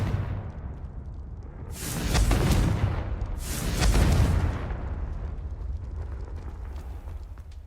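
The Confringo fire spell goes off twice in Hogwarts Legacy on PS4: two rumbling, fiery bursts about two seconds apart, each swelling and fading over a low ambient backdrop.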